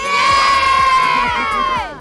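A crowd of children cheers loudly at an autonomous robotic snowplow competition during a winter carnival, sustained high-pitched shouting voices that rise together and then trail off.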